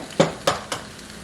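Eggs cooking with tortilla in a pan for migas, stirred with a utensil: three quick scraping clinks against the pan about a quarter second apart over a soft steady sizzle, close and alone.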